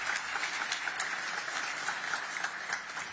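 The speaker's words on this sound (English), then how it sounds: "I'd like for everybody to give Jeremy a round of applause for the work that he's done." Audience applause for Jeremy at a Pittsburgh Downtown Partnership event announcing holiday season plans, a steady moderate patter of many hands clapping in a room, sustained throughout.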